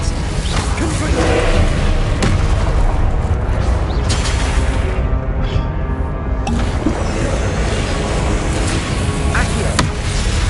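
Spell blasts in Hogwarts Legacy combat: a dense, loud roar of crackling explosions and whooshes that runs without a break from start to finish.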